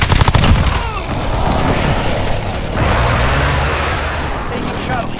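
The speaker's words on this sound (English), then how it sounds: "Enemy precision airstrike." A precision airstrike in Call of Duty Modern Warfare multiplayer brings a dense rumble of explosions and booming blasts, loud and continuous, with a burst of gunfire at the start.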